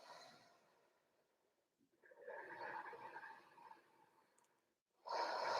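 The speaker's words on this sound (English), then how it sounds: "Breathing in and out through the nose." Slow ujjayi yoga breathing in and out through the nose makes a soft, whispery, ocean-like rush. It begins with a fading breath, then comes a long, steady breath cycle, and finally a louder breath starts. It is heard alone and close up.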